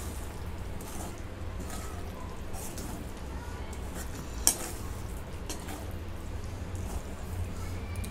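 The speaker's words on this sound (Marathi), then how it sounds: "आता हे सगळं मिक्स करून घेते." Cashew and melon seed paste being mixed into a pan of mixed vegetable bhaji, a soft continuous stirring and faint sizzle with one sharp clink of the spoon, and quiet speech partway through.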